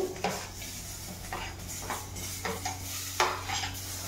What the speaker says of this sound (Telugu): మిర్చి వేస్తున్నానండి